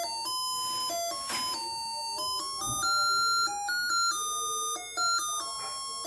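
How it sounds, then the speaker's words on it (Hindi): A homemade electronic doorbell circuit plays a tinny melody of beeping tones, steady and moderately loud like a cheap musical chime, with faint background hiss. "इससे आप एक डोरबेल बना सकते हैं, सिक्योरिटी अलार्म बना सकते हैं।"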